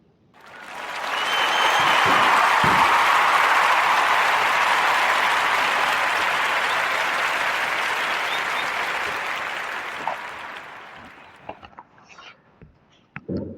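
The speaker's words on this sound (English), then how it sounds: "we're going to give a warm narrative podcast round of applause for Mrs. Terry Johnson and the Harlem Candle Company" A podcast audience gives a warm round of applause for Mrs. Terry Johnson and the Harlem Candle Company, steady dense clapping that swells quickly, holds for about ten seconds, then thins out into a few scattered claps.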